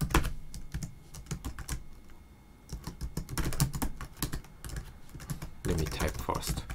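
Rapid keyboard typing on a computer keyboard, with bursts of clicky keystrokes separated by brief pauses, heard up close and alone.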